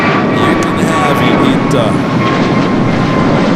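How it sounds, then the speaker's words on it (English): A Delta A321neo airliner is rolling down runway 24 Left at Los Angeles airport. Its engines give a loud, continuous roar that fills the whole clip, and a person talks briefly over it. "Delta E321 Neo rolling down to 24 left"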